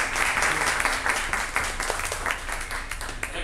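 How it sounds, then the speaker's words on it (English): A conference audience at a startup talk applauds to welcome two speakers onto the stage, a dense, steady wash of clapping from a mid-sized crowd. "Let's give a big round of applause to welcome Gwen and Shashank."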